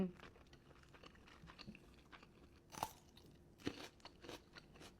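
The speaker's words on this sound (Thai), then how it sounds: "ขอกินคำใหญ่นิดนึงนะ" Someone chews and crunches a big bite of tender rib meat from a hot pot meal, with close, soft, moist chewing and a few crisp crunches, faint against a quiet background.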